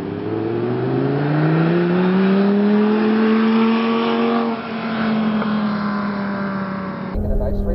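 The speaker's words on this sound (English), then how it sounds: "start rolling on the throttle, nice and easy" A Lamborghini Gallardo Spyder accelerating on throttle around a cone course, its engine note rising steadily in a loud, close drone, then easing off near the end.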